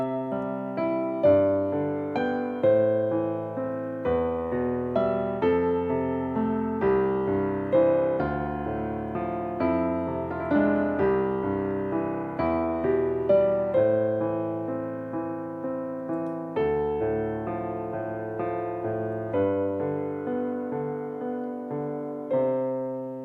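A piano piece in 3/4 time carried by flowing left-hand arpeggios beneath a melody, steady lilting waltz rhythm with regular note attacks, close and even in volume, played without any talking.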